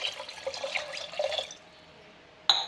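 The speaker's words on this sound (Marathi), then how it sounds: "यामध्ये आपण आता थंडगार माठातलं पाणी टाकू एक ग्लास" Chilled water from a clay pot pours steadily into a glass for about a second and a half, then stops, followed by a short sharp clink near the end.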